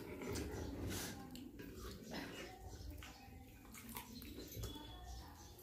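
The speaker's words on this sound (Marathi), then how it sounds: "जे आपण शेवभाजीची ग्रेव्ही बनवली त्याला उकळी आलेली आहे" Sev bhaji gravy comes to a boil in a pot over a wood-fired chulha, giving a continuous close bubbling and watery churn that sits under occasional talking voices.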